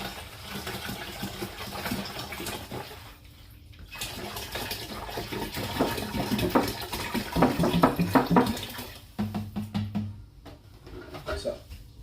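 Cold water poured into a fermenter while brewing a vanilla porter, a splashing, gurgling pour that swells and pauses with someone talking over it at times.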